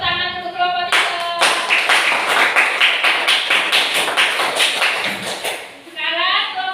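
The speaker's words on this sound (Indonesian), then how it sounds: "silakan kelompok 3 beri dua tepuk tangan untuk kelompok 3" A classroom group claps together for a presenting group in a steady burst of brisk, fairly close hand claps lasting several seconds, with a teacher speaking before and after it.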